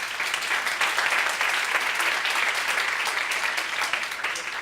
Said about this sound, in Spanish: Un aplauso para ella, de nuevo